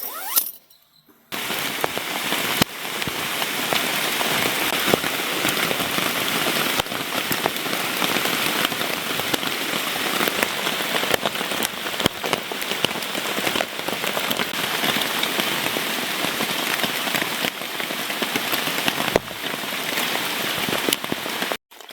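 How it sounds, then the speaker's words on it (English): Heavy rain drums steadily on a tarp shelter over a hammock camp, a dense continuous patter that starts after a brief quiet moment and holds loud and close throughout. "We have got us a bit of rain falling. It come in really heavy there for a second."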